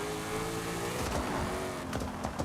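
A Ford Mustang Dark Horse with a Coyote V8 in Forza Horizon 5 revs and accelerates, its engine note climbing and dropping in rising sweeps, loud and close, with no talking.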